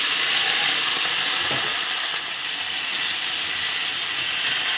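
Chopped eggplant and potato, just washed, dropped into a hot pan while cooking a homemade ghonto, giving a steady, loud broadband hiss of frying that holds evenly throughout with no talk.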